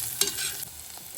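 Mint leaves being sautéed in a pan for chutney, heard as a brief, close scrape of stirring over a soft sizzle.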